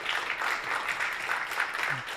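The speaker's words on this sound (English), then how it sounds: "Big round of applause for them." Audience at a student government election debate applauding, a steady wash of clapping at moderate level with no clear individual claps, fairly even from start to end.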